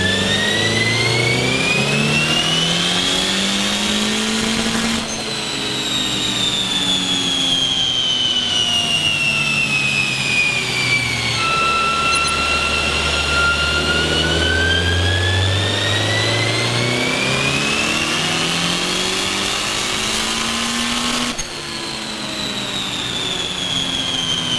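Turbocharged B18 engine in a Honda Civic hatchback revving hard on a dyno, a loud continuous roar sweeping up through the rev range, dropping back and climbing again in repeated pulls with a turbo whine above, no talking.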